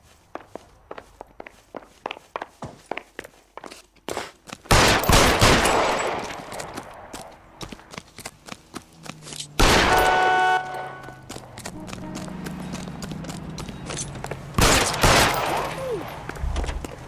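Shots ring out in the LA Noire video game in three loud bursts, between steady rhythmic footsteps that run through the whole stretch, with occasional voices.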